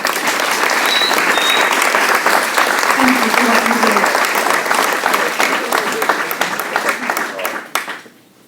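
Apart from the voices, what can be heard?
audience applause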